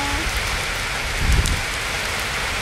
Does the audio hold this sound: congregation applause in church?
no